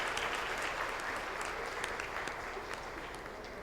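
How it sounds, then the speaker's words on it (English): An audience claps for alumni at a school esports league ceremony, a steady wash of applause from a roomful of people at moderate distance, slowly thinning toward the end. "let's all energize the room with some applause for our alumni"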